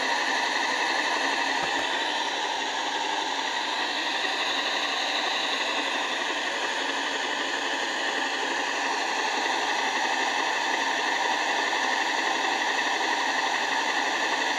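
Steady broadband white noise plays during a Halloween ghost hunt at Sutton Manor, a loud continuous hiss that runs unbroken and alone throughout.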